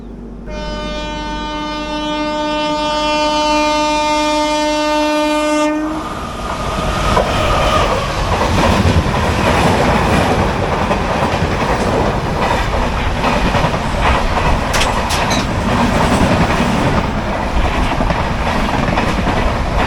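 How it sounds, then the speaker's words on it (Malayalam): A Duronto Express on Indian Railways sounds a sustained, loud horn at the start, then thunders past close by with a steady roar and rhythmic clatter of wheels over rail joints. "ഏതൊരു ദുരന്തോ എക്സ്പ്രസ് ആണ്, ഇപ്പോൾ ഒരു എറണാകുളം ദുരന്തമായിരിക്കും."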